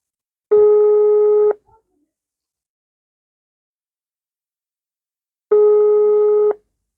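Two long electronic ringback tones about five seconds apart, heard through a phone speaker, with silence between them.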